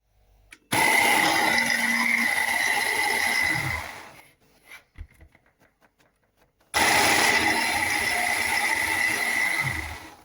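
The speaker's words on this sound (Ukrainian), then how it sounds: "Зараз зіблю блендером" A loud blender whirs steadily through soaked ingredients for a few seconds, cuts out briefly with small clicks and knocks, then roars back on at full strength.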